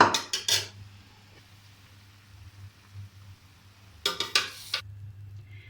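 A spoon scrapes and clanks against a pot as cooked chicken biryani rice is mixed and served into a dish, with bursts of metallic clatter at the start and again near the end over a low background hum.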